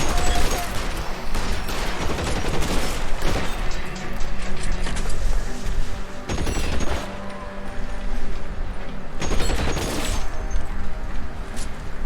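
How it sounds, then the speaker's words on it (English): Bursts of assault rifle fire in L.A. Noire, rapid repeated shots in loud clusters with brief pauses between volleys, dense and close throughout. "Trying to get headshots, but I chose a freaking assault rifle."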